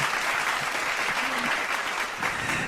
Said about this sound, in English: Everyone, let's give a round of applause.